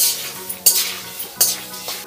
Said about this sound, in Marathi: आणि चांगलं असं मिक्स करत राहायचं.